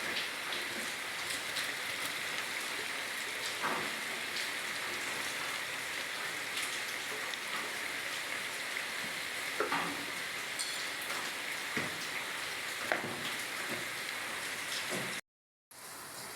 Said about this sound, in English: we are putting it inside the oil